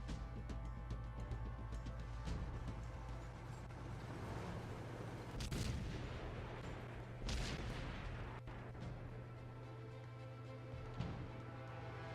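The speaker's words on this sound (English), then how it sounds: "Couple more shots getting fired, nothing really doing, just bouncing, missing, or hitting tracks." Tank cannon shots in a World of Tanks style competitive match, with heavy tanks like a Panzer 7 exchanging fire: several booming blasts over a steady engine drone and game ambience, no talk.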